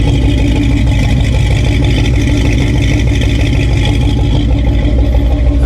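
A Ford 302 V8 engine rumbles steadily at idle, loud and close, with a throaty exhaust tone that holds even throughout.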